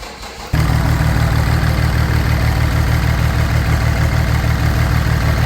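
A BMW M57 diesel engine fitted in a Ford Transit fires up after a brief quiet moment, then settles straight into a loud, steady, close-up idle.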